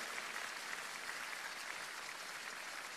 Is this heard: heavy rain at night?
no